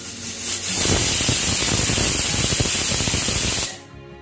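A pressure cooker making carrot halwa vents steam in one loud, continuous hissing whistle lasting about three seconds, then cuts off abruptly into quiet.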